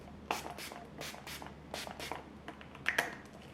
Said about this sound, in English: I am going to quickly set my face with my setting spray